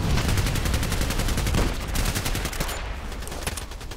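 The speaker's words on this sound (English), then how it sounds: "Who's shooting at me?" Rapid automatic gunfire from a Glock 18 in a shooter video game, sounding as a loud, dense stream of fast repeating shots that continues for several seconds.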